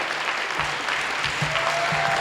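Applause from an event audience greeting a new executive director of CISA at a local farm-advocacy show, steady dense clapping throughout with a faint voice underneath.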